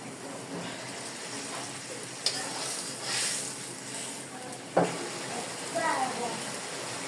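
Cabbage and fish fry in a pan, a steady soft sizzle and hiss running throughout, with a couple of sharp clatters and stirring noises at moderate level.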